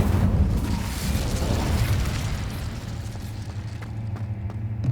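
An Incendio fire spell in Hogwarts Legacy erupts in a loud, continuous whooshing roar of flame and blast that slowly fades, with small crackles near the end.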